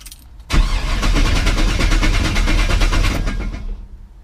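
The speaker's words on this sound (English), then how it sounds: "Still just cranks and cranks." A 2009 GMC Sierra with a stock 5.3 V8 cranks without catching: the starter kicks in abruptly and churns in a fast, even rhythm for about three seconds, loud and close, then winds down and stops.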